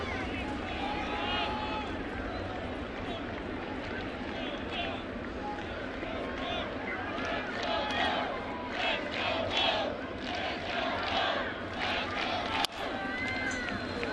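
Sellout crowd of 49,197 at Yankee Stadium in the Bronx roaring and cheering continuously on Mariano Rivera Day, September 2013, Giants at Yankees, swelling in places, with a commentator's voice talking over the din.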